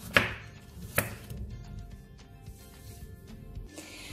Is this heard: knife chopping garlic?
yes